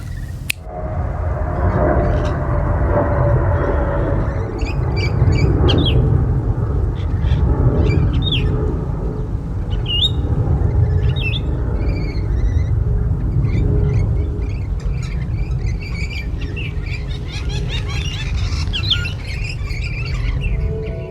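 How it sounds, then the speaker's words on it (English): Small colourful birds call from a tree in an outdoor field recording, with bright chirps and tweets scattered above a steady low rumble of wind or distant noise, fairly faint and continuous. "I am just trying to record these little colourful birds up in the tree"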